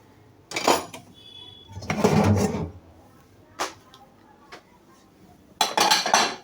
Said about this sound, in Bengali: প্লেট বাটি ধুইলাম ধুইয়ের এখন